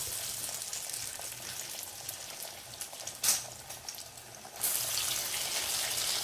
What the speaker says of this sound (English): Fry both the sides well, nice crisp, and take it out.